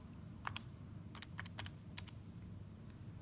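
Keys tapped on a calculator, a quiet close run of light irregular clicks in small bursts, no voice.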